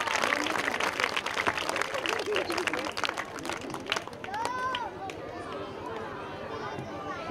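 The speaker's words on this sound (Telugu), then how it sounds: "అందరూ కూడా చప్పట్లు కొట్టి మరి ఆయనను ఆహ్వానిద్దాం" An audience at a Christmas gift and clothes distribution event claps to welcome a guest, a dense burst of applause that thins out over several seconds while a voice speaks over it.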